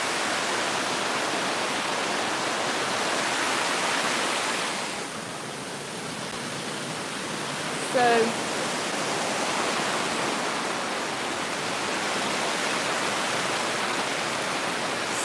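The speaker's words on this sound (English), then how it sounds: "the water comes from the same natural spring that this amazing river flows from" A river fed by a natural spring, rushing water giving a steady broadband roar that stays constant and close, with a brief faint whistle-like sound partway through and no talk.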